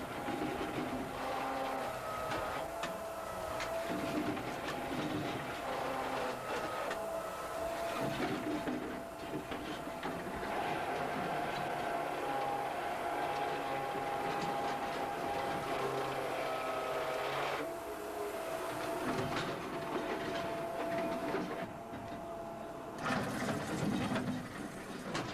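A mining tram motor hauling 2.5-ton ore cars through an underground drift in a phosphate mine, a steady loud mechanical clatter and grinding rumble running the whole time.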